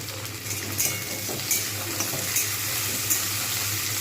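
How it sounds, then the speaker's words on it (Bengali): Tomatoes fry with onions in a pan on medium heat, giving a steady soft sizzle with occasional clinks and stirring taps, close by and with no talking. "টমেটোগুলো ভাজতে ভাজতে এর মধ্যেই"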